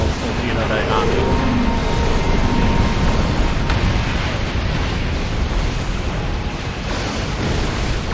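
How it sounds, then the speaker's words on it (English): A high-yield torpedo slams into a ship in the space combat game Star Trek Online, a dense, roaring blast that washes into a sustained rumbling wash of noise lasting several seconds at steady loudness. "that was a high yield torpedo that got me"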